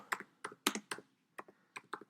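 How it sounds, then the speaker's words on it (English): Typing on a computer keyboard with one hand: clusters of close, crisp key taps in uneven bursts separated by short pauses, with no talking. "I'm typing with one hand, by the way"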